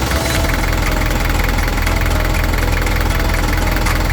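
A diesel engine runs steadily at a warm idle, a loud, continuous rumble with a faint rhythmic knock and vibration, heard close up with no pauses.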